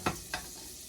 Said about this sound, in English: I don't know if you could hear it. It's bubbling away.